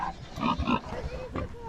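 Farm pig grunting in a few short, rough bursts close by, with a person speaking briefly alongside.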